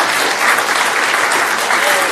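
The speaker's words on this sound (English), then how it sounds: "go ahead and clap." Audience at a Gilroy city council meeting breaking into loud, sustained applause, many hands clapping densely and evenly for the whole stretch.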